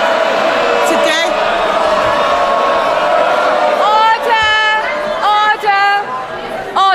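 Loud crowd noise in the House of Commons chamber during a budget debate, with clapping, cheering and jeering voices massed together, rising in bursts of whoops and shouts toward the end.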